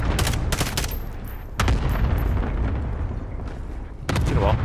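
Gunfire in a video game: loud close bursts of rapid shots at the start, a heavier volley around the middle and another burst at the end, over a constant rumbling background.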